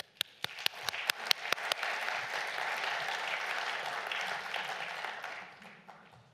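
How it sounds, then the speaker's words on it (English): A conference audience breaks into applause, starting with a few sharp, scattered claps that swell into dense, sustained clapping from a room full of people before fading out. "Please join me in giving him a warm round of applause"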